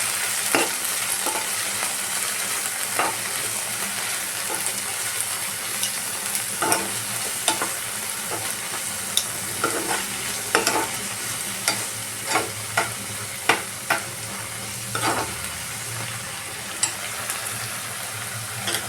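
Spinach and chili flakes sizzle steadily in a pan, with a spatula scraping and tapping the metal at irregular intervals throughout, close and continuous with no talk.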